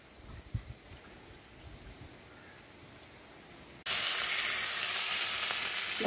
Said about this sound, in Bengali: এখানে রুই মাছ ভাজা হচ্ছে